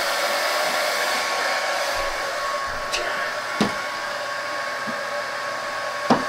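A hair dryer blows steadily at close range to dry a wet pussy willow craft painting, a constant whooshing hum with a few faint clicks and light knocks over it.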